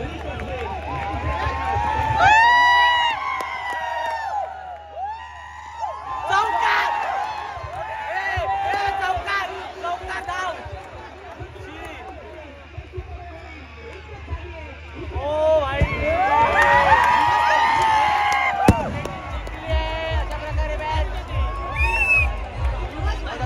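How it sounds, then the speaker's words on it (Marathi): Crowd noise swells at a tennis-ball cricket tournament, with bursts of cheering and shouting rising around the middle and near the end, mixed with close voices talking over it and a low rumbling hum underneath. "गर्दी बघा किती होईल"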